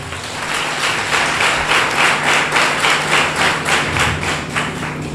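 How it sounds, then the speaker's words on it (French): Sustained applause from a party audience at a political event, rhythmic clapping swelling in steady pulses throughout, moderately loud and continuous with no speech. "son Excellence Abdoulaye Biotchane, secrétaire général du parti, que je vous prie d'applaudir"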